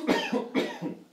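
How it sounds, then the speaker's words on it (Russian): A person coughs forcefully to clear a partial choking obstruction of the airway, two harsh, close coughs in quick succession with no talk over them. "Кашляйте, кашляйте."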